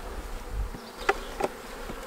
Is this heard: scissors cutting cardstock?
no